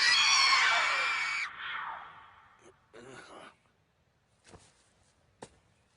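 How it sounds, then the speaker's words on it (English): A mandrake plant screaming as it is pulled from the ground: a loud, harsh shriek that fades after about a second and a half, followed by softer rustles and brief gasping sounds. "Screams out like a vengeful spirit when it's pulled from the ground."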